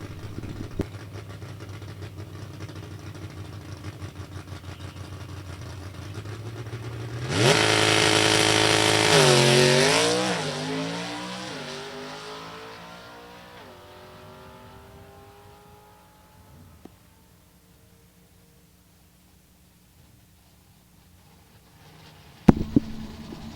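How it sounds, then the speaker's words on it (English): A Super Stock drag car launches hard and bangs through each gear down the strip, a sudden loud roar with rising engine pitch at every shift, fading into the distance until a sharp knock near the end. "Should go wheels up launch, and you'll get to hear him bang every gear on his way down the Sunoco lane"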